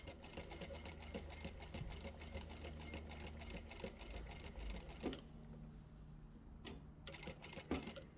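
Sewing machine stitching a fabric trinket basket at a steady moderate pace, a continuous close mechanical whir with rapid needle ticking for about five seconds, then stopping into quieter handling noises and a few clicks.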